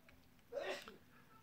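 A single short sneeze, fairly faint, bursting out once in an otherwise quiet room.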